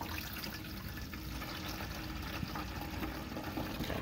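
Water pouring steadily through a funnel into a hollow pyramid model, a continuous close splashing and trickling rush with no break.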